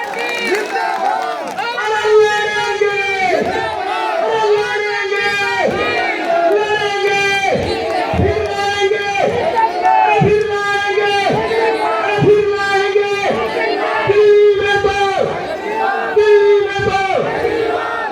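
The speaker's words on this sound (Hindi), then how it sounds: "एक बार जोरदार तालियां बजाकर उनका अभिवादन करें" A large crowd at a political rally cheers and shouts in loud, rhythmic bursts, voices rising together again and again like chanted slogans, close and continuous throughout.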